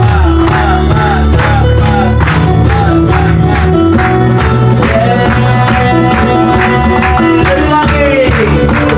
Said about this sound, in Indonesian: Berikan tepuk tanganmu yang paling meriah.